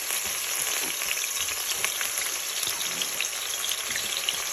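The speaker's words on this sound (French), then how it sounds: "Il faut laisser l'huile chauffer avant de rajouter les oignons" Hot vegetable oil sizzles and crackles steadily in a pan, a dense hiss with scattered small pops and no voices.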